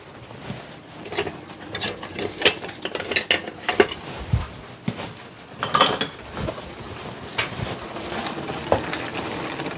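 Metal spoons and kitchen utensils clink and rattle in scattered bursts while one is picked out, close by in a home kitchen with a faint sizzle beneath.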